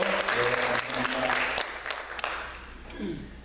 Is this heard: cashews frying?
no